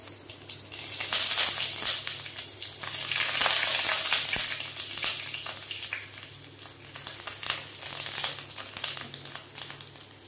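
Ground whole-onion paste frying in a pan, a loud, close crackling sizzle that swells and fades with stirring, punctuated by sharp spattering pops.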